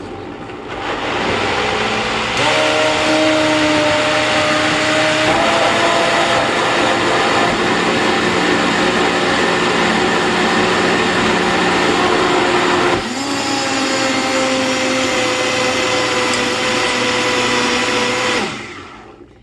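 A nearly 20-year-old Vitamix blender whizzing a vegan dessert mixture, a loud, continuous motor roar with shifting pitch as the blend thickens, a brief dip partway through, then cutting off at the end, close with no talking.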